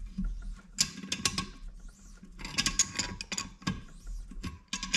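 A 1/4 inch NPT tap cuts threads into a hole for a barbed hose fitting while preparing a Toyota/Lexus V8 for a supercharger. It gives irregular, close clicking and ratcheting bursts with short pauses between them.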